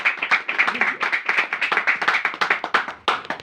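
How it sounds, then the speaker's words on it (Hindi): A small congregation at a Hindi Christian prayer meeting applauds Jesus Christ, giving brisk, rhythmic hand claps that stay close and steady for a few seconds, with no talk over them. "जोरदार तालियां यीशु मसीह के लिए।"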